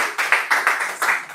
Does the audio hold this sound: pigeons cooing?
no